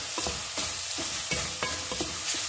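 Steady close sizzle of chicken frying in a pan, with a few stirring scrapes breaking through the hiss.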